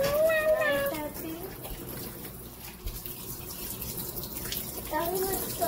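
Shower water runs steadily as it wets a dog's head during a bath, a continuous close hiss and splash. A person's voice speaks and hums over it at the start and end.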